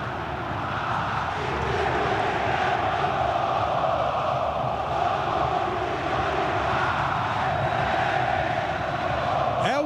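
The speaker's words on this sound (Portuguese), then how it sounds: "O som da torcida do Corinthians com 2 a 0 a favor no Pacaembu." Corinthians supporters at Pacaembu stadium roar during the 2009 Copa do Brasil final while their side leads 2-0. A dense, loud crowd noise holds steady throughout, with commentary faintly underneath.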